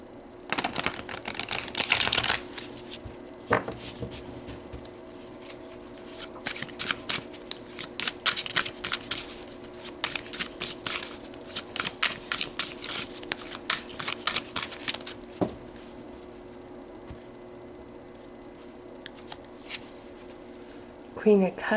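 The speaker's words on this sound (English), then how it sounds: "So let's pull some more cards." A tarot deck is shuffled and cards are pulled: a dense burst of riffling flutter up close, then an irregular run of quick card snaps and flicks that fade into quiet, with speech nearby.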